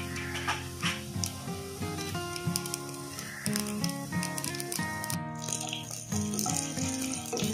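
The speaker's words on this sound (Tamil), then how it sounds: "எண்ணெய் சூடானதும் உளுத்தம்பருப்பு கடுகு போட்டு தாளிச்சிக்கலாம்." Mustard seeds and urad dal sputter in two spoons of hot oil in a kadai, a fast, steady crackling rattle heard close under background music.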